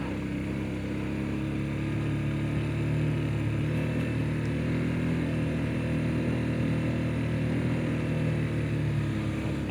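A motorcycle riding along an up-and-down hilly road gives a steady, fairly loud engine drone with a broad rushing wash and no clear gear changes.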